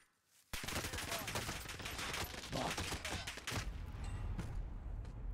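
Rapid gunfire in a first-person shooter video game, a loud, dense burst of automatic shots starting abruptly after a quiet moment and continuing in sustained volleys, with faint voices underneath.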